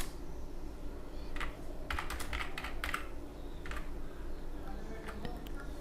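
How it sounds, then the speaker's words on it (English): Keys clatter on a computer keyboard as a short search word is typed, with bursts of quick taps spread through the passage over a steady low hum. "I'm typing earn"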